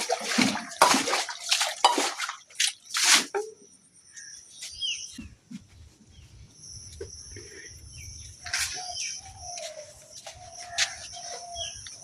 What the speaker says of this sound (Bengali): জল দেবো, জলটা দিয়ে দিচ্ছি এখন।